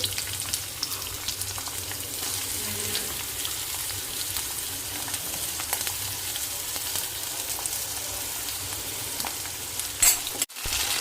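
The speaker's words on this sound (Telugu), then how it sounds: "ముందుగా పచ్చిమిర్చి, ఉల్లిపాయలు వేస్తున్నాను" Green chillies and onions sizzle in a tempering of hot oil for mutton curry, a loud continuous frying hiss with light stirring, interrupted by a brief sharp clatter near the end.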